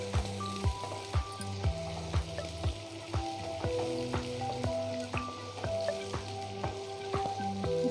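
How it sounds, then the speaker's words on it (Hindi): Onions frying in oil in a kadhai give a soft continuous sizzle with light crackles, under a background melody of plucked tones. "प्याज को गोल्डन होने तक भूनेंगे। थोड़ा से तलते हुए"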